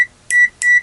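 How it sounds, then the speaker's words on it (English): An ANENG AN870 digital multimeter in continuity mode sounds three loud, close electronic beeps. The first is a short blip, followed by two sustained tones of roughly a quarter second each. "the beeping does last a little bit longer than your contact duration"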